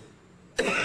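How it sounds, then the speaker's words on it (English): A single harsh cough bursts out close to the microphone after quiet room tone, loud and broadband, filling the final third of a second. "Cough, cough, cough."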